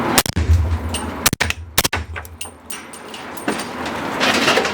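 A suppressed 300 Blackout rifle firing subsonic 220-grain ammunition, several sharp muted cracks with metallic clacks of the action between them, close and fairly loud in an outdoor setting.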